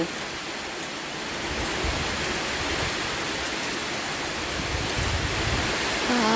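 A storm brings heavy rain and wind in a steady, dense roar of falling water, loud and close, with no pauses.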